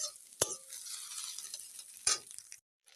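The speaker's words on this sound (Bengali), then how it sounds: "এবারে ভালো করে একটু ভেজে নিতে হবে পেঁয়াজ ও আলুটাকে।" Onion and potato fry in a pan with a soft, steady sizzle, broken by two sharp clacks of a utensil stirring against the pan, then a brief quiet moment near the end.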